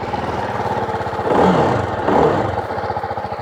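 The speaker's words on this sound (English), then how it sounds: "when you fire up the engine," A TVS Apache RR 310 motorcycle engine idles with a steady, close, mid-pitched thrum, swelling briefly twice as though blipped or settling after starting, with no talking over it.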